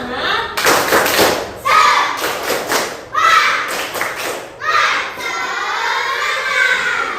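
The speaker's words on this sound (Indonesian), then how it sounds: "kita sama-sama berdiri, kita tepuk semangat dulu" Schoolchildren standing together in a combined classroom do a rhythmic spirit clap: several bursts of patterned, loud clapping, separated by short pauses, with young voices chanting and calling along.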